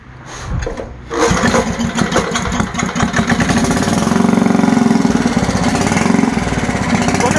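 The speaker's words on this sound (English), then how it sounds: "Let me see if I can start it." An old Bolens garden tractor engine that sat unused for over 25 years is cranked and fires up into a loud, rough, sputtering run, close by and steady after a brief hesitant start.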